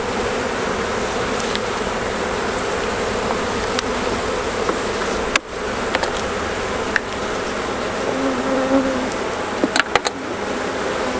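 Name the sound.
honey bees buzzing around hive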